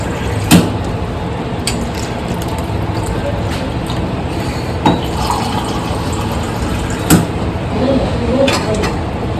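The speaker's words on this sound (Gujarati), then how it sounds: "2 ગ્લાસ નાખી દેવાનું છે પાણી." Two glasses of water are poured into a pot of cooking dal, giving a steady close gurgle of filling liquid with a few sharp clinks and knocks along the way.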